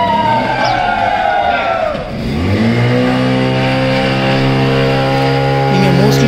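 Motor boat engine on Ooty lake, a loud, close, continuous drone that dips and then revs back up with rising tonal whine, steady throughout.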